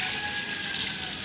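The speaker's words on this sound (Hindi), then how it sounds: "जो इसका पानी है ना, जखनी वगैरह, वही हमने बीच में डालनी है।" Stock being poured into spiced goat trotters frying in a pan, a steady hissing, rushing liquid sound, close and continuous with no talking.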